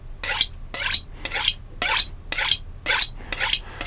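A French knife is honed with seven quick, evenly spaced metallic swipes, each a bright scraping rasp about half a second apart, close and clear with no talking.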